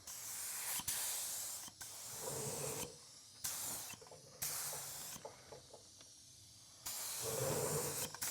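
An aerosol can sprays adhesion plastic primer onto a headlight in repeated short and longer hissing bursts with brief pauses between, close and fairly quiet, with no talking.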